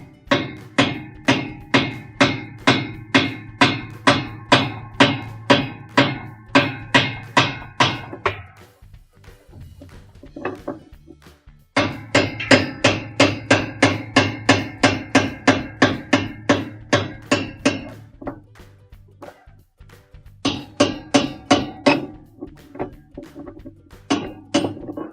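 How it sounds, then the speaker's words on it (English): Hammer tapping the gearcase oil seal of a washing machine counterclockwise to loosen it, a fast run of sharp metallic knocks repeated in three bursts with brief pauses between, close and loud with no talk. "we're going to take the hammer and just tap it a couple of times to loosen it"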